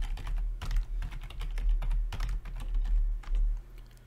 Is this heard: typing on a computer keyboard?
yes